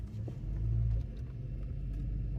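A 1994 convertible car drives around the block after a brake booster and master cylinder replacement, with a steady low engine rumble heard from inside the cabin and no talking.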